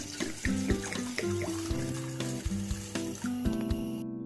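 Running tap water splashes over mixed dals being washed in a vessel: chana dal, toor dal, moong dal and urad dal. Steady close streaming comes with clinks and sloshes of the grains as they are rinsed.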